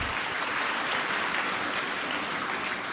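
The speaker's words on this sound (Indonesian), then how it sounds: "Boleh tepuk tangan barangkali untuk kita?" A large graduation ceremony audience at Universitas Padjadjaran claps in a dense, steady wash of applause that holds an even loudness throughout, with no voices standing out.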